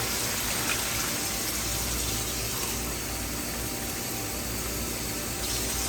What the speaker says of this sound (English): Now I'm going to go ahead and add 2 cups of water to this.